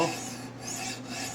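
A knife edge is sharpened on a 600 grit stone fitted with SWAT adapters, giving a continuous close rasping scrape with rhythmic back-and-forth strokes and no talk.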